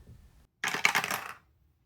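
A short clatter of dice being rolled and tumbling onto a hard surface, lasting under a second, close and clear against near silence.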